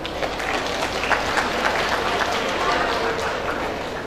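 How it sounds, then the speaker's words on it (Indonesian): A crowd at a graduation ceremony applauds steadily, a dense wash of clapping that holds throughout, with voices mixed faintly into it. "tepuk tangan ya."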